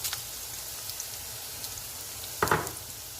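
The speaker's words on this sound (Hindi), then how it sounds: "और इसको हम 1 से 2 मिनट तक फ्राई करेंगे।" Whole spices frying with onions in a pan for mutton stew, a steady close crackling sizzle like light rain, with a couple of brief louder pops and spatters.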